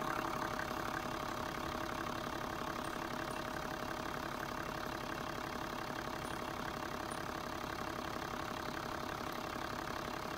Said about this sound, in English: Let's go start the engine, see what happens.